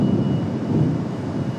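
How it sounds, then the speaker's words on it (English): A low rolling rumble of thunder from a storm to the west of Raleigh-Durham International Airport, a continuous deep roar heard without speech. "as you hear the thunder roll."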